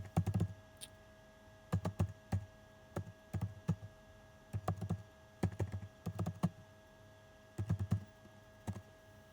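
Bursts of typing on a computer keyboard, close and crisp, clustered key clicks in quick runs separated by short pauses, over a steady faint hum.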